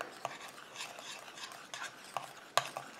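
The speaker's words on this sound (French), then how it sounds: "Et je mélange à nouveau." A spoon stirs a homemade oat and orchid anti-aging night cream in a small bowl, making soft, steady scraping swirls with a few sharper clinks against the side, close and quiet, with no talking.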